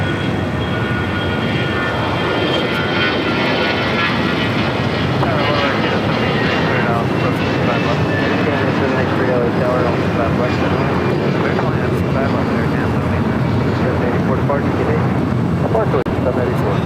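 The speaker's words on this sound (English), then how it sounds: "Insomniac A320 now taking off" An Airbus A320 jet taking off at LAX, a loud continuous engine roar that builds and rumbles steadily, with voices talking over it.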